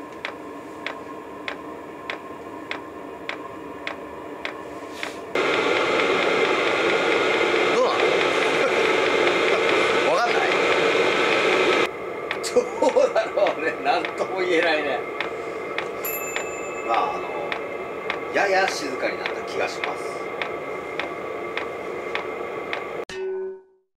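An FF fan heater makes a run of small sharp clicks and ticks, with a steady blowing hiss in the middle stretch, heard close up with no talking.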